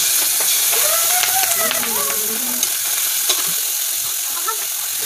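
Pakbet, a Filipino vegetable dish, fries and sizzles in a pan with a steady hiss and scattered pops, while a voice speaks faintly in the background.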